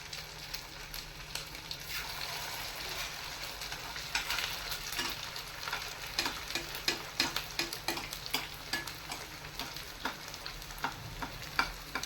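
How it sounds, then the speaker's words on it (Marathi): Semolina and potato snacks shallow-fry in a pan over a low flame, giving a steady, even sizzle with scattered small crackles throughout and no voices. "हे आता आपण मंद आचेवर थोडंसं शॅलो फ्राय करून घेऊ."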